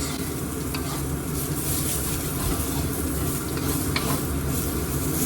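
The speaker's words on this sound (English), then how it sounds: "I'm throwing in my yellow onions and the white parts of the green onions." Yellow onions and the white parts of green onions sizzle steadily in a hot pan while being stirred, a continuous loud frying hiss with scraping from the stir, no voices, prepared for beef chow fun.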